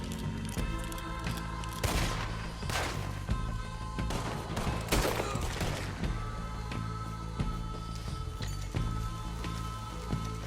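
Gunfire in the video game Red Dead Redemption 2: a string of sharp shots cracks out at irregular intervals over a busy, low game soundscape, moderately loud.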